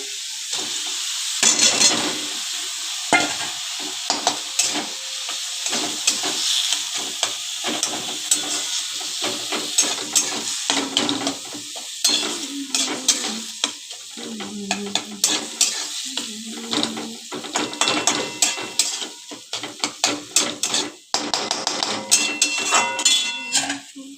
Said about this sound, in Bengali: এবার যে মোচাটা সিদ্ধ করা আছে ওটা দিয়ে দেবো